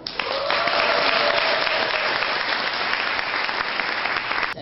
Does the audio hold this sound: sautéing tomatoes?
no